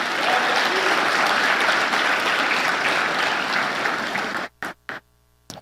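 A church congregation claps steadily and densely for several seconds, a full, even wash of applause that cuts off abruptly, followed by a few short isolated bursts of clapping.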